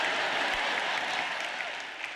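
Audience clapping in a church service setting, a dense continuous patter of many hands fading slightly toward the end, fairly distant and without speech.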